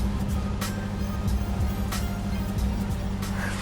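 A Honda City Turbo II engine idles on its own after a rough start, a steady low throbbing hum with faint higher clicks, close by and continuous throughout.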